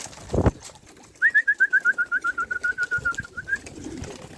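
Young homing pigeons coo in a steady run of about fifteen soft, evenly spaced notes, close by and alone after a short thump at the start.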